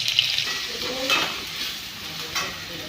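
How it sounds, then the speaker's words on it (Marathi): Tomato, chilli powder, turmeric and salt sizzle in a pan while being stirred, a steady hiss with occasional soft scrapes of the spoon, close and moderately loud. "तर छान असं मिक्स करून घेते"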